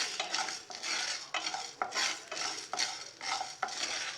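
Rock salt is dry-roasted in a kadai, stirred in repeated rhythmic sweeps that make gritty, rasping scrapes, about eight strokes in a steady cycle, close and fairly loud with no talk.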